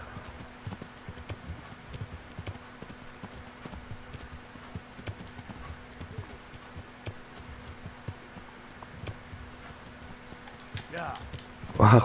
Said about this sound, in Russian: я на лошади